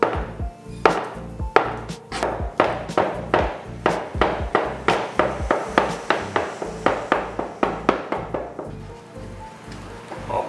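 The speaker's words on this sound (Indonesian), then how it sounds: "Telurnya ini kita cincang asal-asalan aja ya." A knife roughly chopping boiled egg on a cutting board, a steady run of sharp, close knocks repeating at a quick, even pace throughout, loud and without talk.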